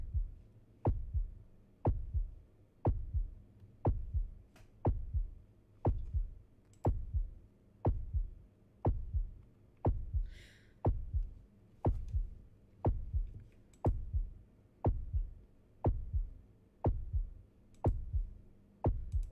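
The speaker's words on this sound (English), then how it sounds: "The heartbeat sound." Heartbeat effect from a video game: a slow, steady lub-dub thump repeating roughly once a second, low and booming, looping alone with a faint hum beneath it.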